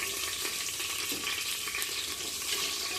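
Green chillies sizzle and crackle in hot oil with seasoning seeds, a loud continuous frying hiss with scattered pops close by.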